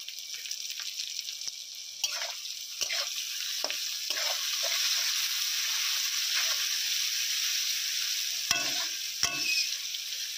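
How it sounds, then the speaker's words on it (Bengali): Onions fry in a pan for masala rice with egg curry, giving a steady close sizzle with occasional scrapes and stirring knocks, and no voices. "পেঁয়াজগুলো হালকা ভাজা হয়ে এসেছে"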